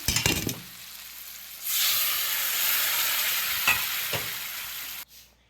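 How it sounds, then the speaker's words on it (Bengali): Lentils for dal poured into fried spice paste in a hot pan, a few clinks and stirring, then a loud, steady hissing sizzle that holds for several seconds before cutting off abruptly. "আমি এবার ডালটা ঢেলে দিচ্ছি"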